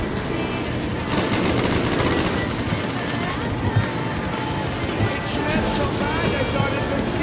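Minigun fire in Black Ops Zombies on the Ascension map, a dense sustained rattle over a busy game mix, with voices talking throughout.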